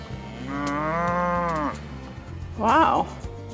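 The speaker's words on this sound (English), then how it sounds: "I found cows." Two drawn-out moos from cows met on a countryside walk with hills nearby: a long, steady low call followed by a shorter, higher one, both loud and close with no talking over them.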